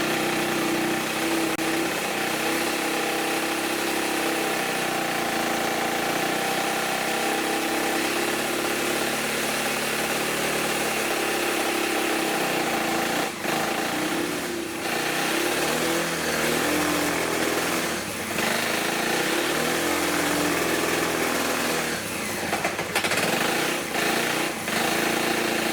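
A freshly rebuilt carbureted engine, its carburetor previously adjusted and now running a little rough, runs steadily after start-up with a constant mid-pitched drone and vibration, close and continuous throughout, with no talking.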